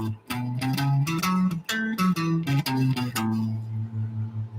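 An acoustic guitar plays a quick bluegrass scale run with a flat third, a string of plucked single notes ending on a ringing low note, close and alone.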